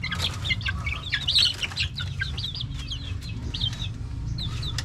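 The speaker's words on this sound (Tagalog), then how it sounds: "So yan yung henny natin." Hens cluck in a series of short, repeated calls at close range, with chick-like chirps mixed in over a steady low hum.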